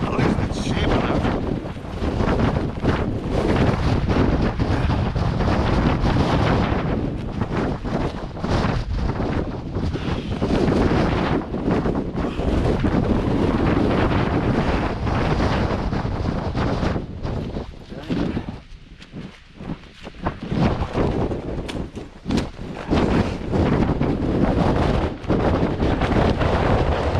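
Strong gusts of roughly 60 to 70 mph buffet a flexing tent at a stormy lake camp in the Lake District, making a loud, continuous roar with rumbling microphone wind noise that dips briefly before surging back.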